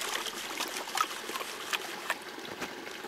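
Water sloshing and trickling as material is gently washed out over the edge of a gold pan, a steady close wet swishing with soft splashes and no talk.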